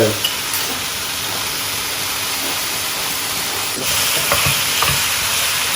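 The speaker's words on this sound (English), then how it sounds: "Never overcook livers. Let's simmer them" Chicken livers simmering in a pan with onion and garlic butter, a loud, steady broad sizzle and hiss up close, with occasional stirring scrapes and a few faint knocks.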